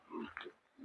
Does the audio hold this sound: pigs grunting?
yes